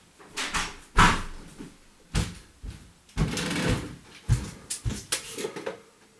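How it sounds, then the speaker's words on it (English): Several sharp knocks and thuds of a door and cupboard-like fittings being shut inside a large tent, loud and close, spaced irregularly with no talking. "I have to close this and close this door"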